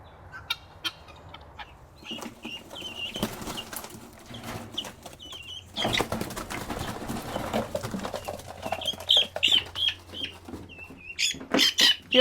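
Guinea keets and turkey poults chirp and peep in scattered high calls, some close and loud, mixed with clucking fowl and handling noise over a low background rumble.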